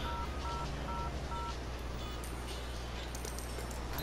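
A phone booth in the Lego City Undercover video game gives a quick series of short, evenly spaced dialing beeps over a loud, constant background hum of game ambience.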